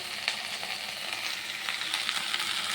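Okra (bhendi) frying in a pan over a medium gas flame gives a steady, close hiss and crackle of sizzling oil with small pops, continuous throughout and with no voices.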